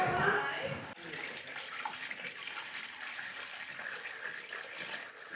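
Water pours steadily into a large container to fill a bathtub up to its overflow, a continuous splashing rush that follows a brief louder clatter at the start.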